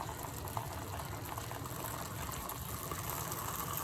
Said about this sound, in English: It's going to start squirting and spurting everywhere in a second.